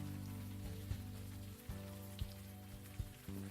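Steady in-game rain patters continuously over a low tonal hum, with a few soft thuds dropping in at irregular moments.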